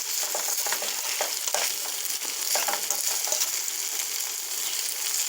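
Steady, loud crackling sizzle of rice frying in hot oil, with occasional scraping stirs, close up and continuous with no talking.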